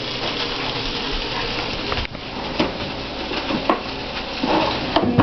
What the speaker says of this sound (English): So now you have your chicken tenders all done. That's legit sizzling.